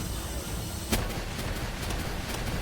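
A Palworld creature fires a laser beam attack, one sharp broadband burst about a second in, standing out above a dense, steady wash of game sound.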